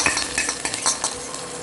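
Chopped shallots sizzle loudly in hot coconut oil, close up, while a spoon stirs and scrapes through the pan.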